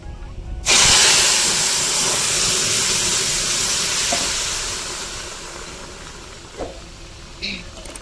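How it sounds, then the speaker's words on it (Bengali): Mustard seeds and dried red chilies sizzle loudly as the hot oil tempering is poured into a cooked ash gourd and egg dish, a sudden burst of hiss that slowly settles, with a couple of faint clinks near the end. "এবার আমি পোড়নটা দিয়ে দেবো"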